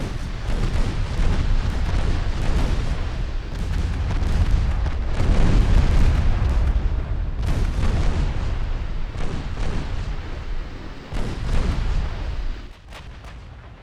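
Big naval guns firing in the warship game Ultimate Admiral Dreadnoughts, a loud continuous barrage of booming shots and rumbling blasts rolling one into another, fading near the end.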